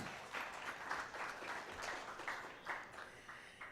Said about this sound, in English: Please receive them with an applause.